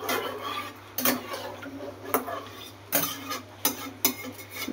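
A ridge gourd dish in a pan, stirred with a utensil that clacks against the pan in sharp, roughly regular knocks about once a second over a low background hum.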